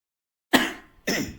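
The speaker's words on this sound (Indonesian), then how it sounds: "Maaf batuk." Two sharp coughs, close and fairly loud, the second following shortly after the first, with no talking around them.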